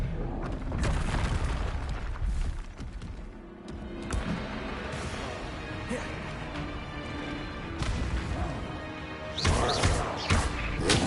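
Spell impacts from Stupefy and Glacius in Hogwarts Legacy: a steady run of booming thuds and crashing hits, loud and close, with a burst of sharp bangs near the end.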